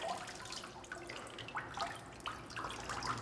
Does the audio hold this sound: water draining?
yes